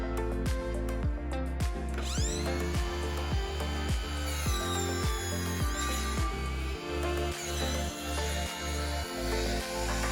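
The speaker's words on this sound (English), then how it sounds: "I'm gonna cut 1 foot off. By the way, I love this wireless Ryobi saw." A cordless Ryobi saw cuts through a 2 by 8 board outdoors, its motor revving loud and close in a series of rhythmic bursts and pulses as the blade bites the wood, with no voices.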